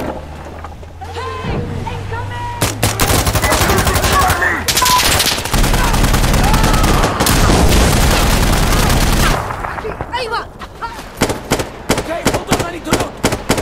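Sustained automatic gunfire and heavy weapon blasts from the Insurgency Sandstorm co-op match, loud and dense bursts with booming impacts over a low engine rumble, easing into scattered shots near the end, with voices calling out in between.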